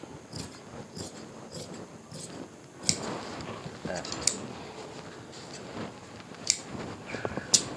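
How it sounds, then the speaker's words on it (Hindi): Scissors cut through layered cloth for a shalwar, giving sharp, crisp snips spaced irregularly across the stretch, close and fairly quiet over soft handling noise. "इधर से आपने ये कट बराबर कपड़ा कटिंग कर लेना है"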